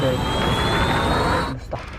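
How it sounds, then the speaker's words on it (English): A steady jet-like rushing roar from a Predator missile flying in a Call of Duty match stays loud and continuous, then drops away abruptly near the end, leaving a brief quieter tail. "Predator missile on standby."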